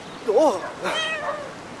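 A giant cat in the video game Brothers: A Tale of Two Sons gives a single close, rising-and-falling meow, followed by a longer, softer wavering cry. No voice over it.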